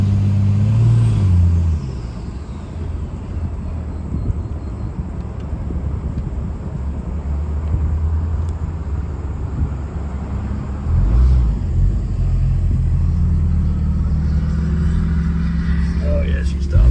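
A semi truck rumbles along with a low, steady engine drone, easing down as it brakes to a stop, while people talk over the noise inside the cab.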